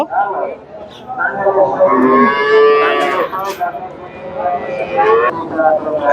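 Cattle at a livestock market, where dairy cows and Brahma bull calves are sold, give long, loud, close moos across the clip, with people talking nearby.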